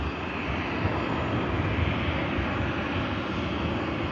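An Airbus A350 arriving from Doha touches down on runway 05 left at Manchester Airport in rainy weather, a steady broad jet roar close by with no voices.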